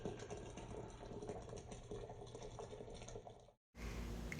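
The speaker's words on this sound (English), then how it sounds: "Pour your water in, allowing for enough headspace." Water pours into a canning jar holding dry navy beans and salt, a steady liquid rush and fill that runs continuously before cutting off abruptly, then a brief burst of different ambient noise follows.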